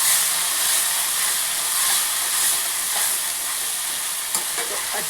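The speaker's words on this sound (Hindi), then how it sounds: "तो अच्छी तरह से 1 मिनट के लिए हमें भून लेना है" Yogurt sautés in a hot pan, producing a dense, continuous hiss and sizzle at close range with faint scraping from stirring and no talking.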